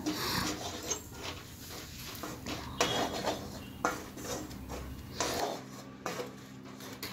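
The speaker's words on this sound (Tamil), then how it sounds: "இதையும் போட்டு 1 நிமிஷம் நல்லா வதக்கிட்டு அடுப்பை ஆஃப் பண்ணிடலாம்" Onions and coriander powder stirred in a pan with a metal spoon, repeated scraping and clinking strokes at an irregular pace, close and moderately quiet, with no voices.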